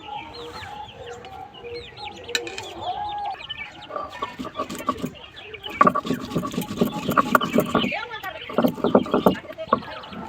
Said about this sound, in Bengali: ততক্ষণে কিছু মশলা আমি শিলে বেটে নেব